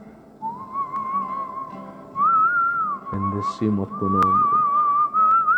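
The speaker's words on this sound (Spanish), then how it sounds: "Levanta tu mano y oye atentamente este silbido." A person whistles a slow, wavering melody, sustained and clear, while a voice speaks over low rhythmic sounds in the middle of it.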